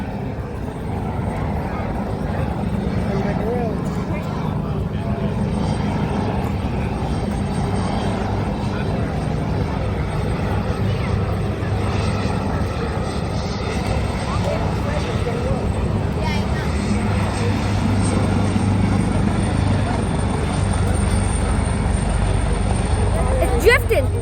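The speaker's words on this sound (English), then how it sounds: "They do it because it's a fire helicopter" A Los Angeles Fire Department fire helicopter flies over with a steady, loud engine and rotor rumble that holds for the whole stretch, with voices heard nearby.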